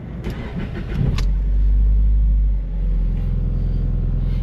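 A car engine starts inside an auto repair shop: a brief, uneven starter cranking catches into a loud, deep rumbling idle that dips once and then settles, heard close by with no talking.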